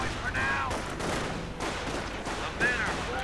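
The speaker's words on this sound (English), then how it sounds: "Panzers are suffering losses to rifle fire." Rifle fire crackles through a video game battle as panzers take losses and snipers engage, a dense stream of rapid shots under continuous commentary with sharper bursts at the start and end.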